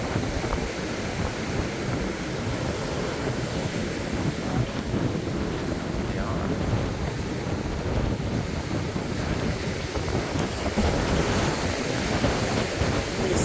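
Ocean surf and gusting wind at a breezy St. Augustine beach beside a fishing pier, a constant broadband roar of breaking waves mixed with wind buffeting the microphone, steady and loud throughout with no talk.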